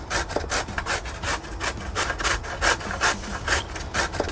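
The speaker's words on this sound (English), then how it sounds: "You're doing a coarse grate for the salad?" Food is scraped across a grater in a coarse grate for a salad, making rapid, rhythmic rasping strokes about three per second. The sound is close and fairly quiet, and it continues steadily without talk.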